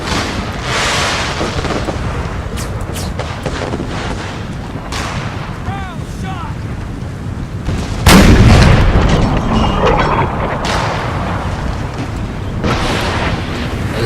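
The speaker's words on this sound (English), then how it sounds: "there was a very specific sound to artillery at this particular time" Civil War artillery cannon fire in the Brother Against Brother battle game at Chattanooga, with booming shots rolling under continuous battle noise and one heavy, close blast standing out midway.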